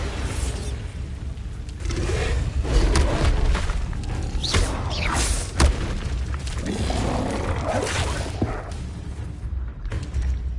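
A Bombarda blasting spell from a Harry Potter video game erupts in a loud, continuous barrage of booming explosions and thuds, with dense rumbling noise sustained throughout and sharp blasts punctuating the roar.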